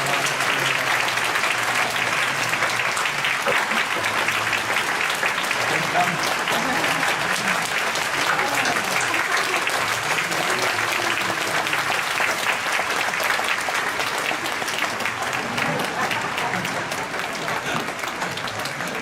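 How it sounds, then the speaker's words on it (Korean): A church congregation at a Friday night service applauds warmly and steadily for young people who have just led worship, a dense wash of clapping that holds for nearly twenty seconds and fades slightly at the end. "우리 VIP, 우리 다음 세대에게 큰 박수를 한번 격려해 주시기 바랍니다."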